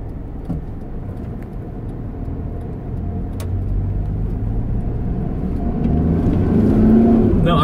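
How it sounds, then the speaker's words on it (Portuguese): Car pulling away hard from a standstill, its engine rumbling and rising in pitch as it revs up and grows steadily louder. "Olha a arrancada agora que vai fazer."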